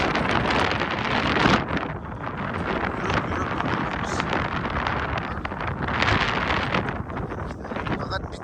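Strong wind roars and buffets the microphone on the Zomin suspension bridge, a loud, continuous rushing with gusty surges throughout.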